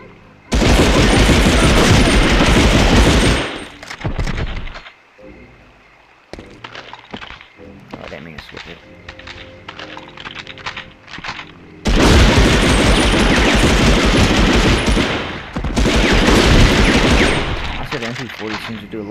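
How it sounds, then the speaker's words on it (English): An MP40 submachine gun fires in the PS1 shooter Medal of Honor, with loud sustained bursts of rapid game gunfire and booming impacts, then quieter gaps with scattered effects before the heavy firing returns. "Let's switch to our MP40."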